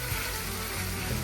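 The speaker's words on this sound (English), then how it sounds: "you can just see it's still sizzling" Bolognese ragù sizzling steadily in a hot pan once the wine has cooked off, a continuous close crackle and hiss that holds level throughout with no voices.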